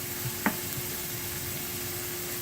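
Sautéing in oil in a pan for spinach lasagna roll-ups, heard as a steady, even sizzle with one brief utensil knock near the start and no talking.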